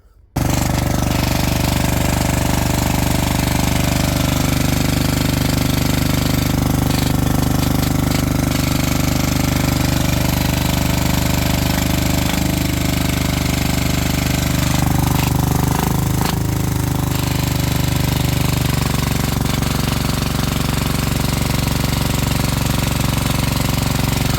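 A loud, harsh Yanmar-clone 186F single-cylinder diesel running with the exhaust deleted and unmuffled, a rapid pounding exhaust chatter that stays steady and close for the whole stretch.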